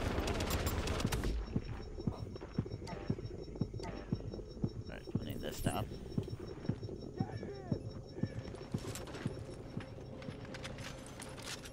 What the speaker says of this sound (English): That sniper is shooting me.